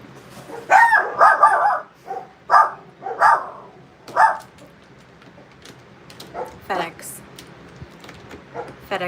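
Dogs bark at a package delivery, with several loud, close bursts of barking early on that fade to quieter, scattered barks.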